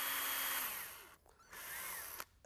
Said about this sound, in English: You just drill a hole in it